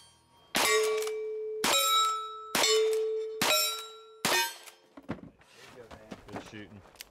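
Rapid gunshots striking large steel targets in a timed shooting competition, five loud ringing metallic clangs about a second apart that each decay slowly, followed by a scatter of softer, duller knocks and rattles.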